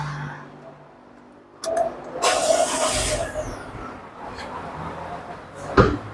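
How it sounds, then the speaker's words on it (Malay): A car engine being switched on while its air-conditioning compressor is checked for a fault: a clicking catch, then a broad cranking burst that settles into a steady running rumble, with a sharp knock near the end. "Sekarang ini saya akan on-kan kereta ini."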